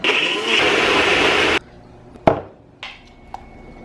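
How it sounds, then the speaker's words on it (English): A blender whirs loudly while blending a smoothie of coconut yogurt and coconut milk, then cuts off abruptly, followed by a few sharp clinks and taps of the jar and utensils. "It's time to blend it up."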